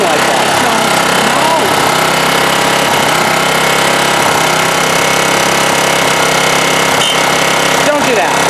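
A 1987 Honda HRA214 lawnmower engine runs rough just after startup, a loud, uneven rattling chug with irregular surges, while people talk over it close by.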